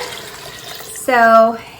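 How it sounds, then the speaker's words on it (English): Water is poured into a pressure cooker pot of greens, a short splashing pour lasting about half a second that follows a moment of quiet room sound. "So we're going to go ahead and put in the water."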